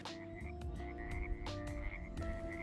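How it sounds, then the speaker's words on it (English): Many frogs croak at a lagoon at Laguna Hanso, a dense chorus of rhythmic, overlapping calls, close and loud with no voices. "There were so many small frogs jumping around."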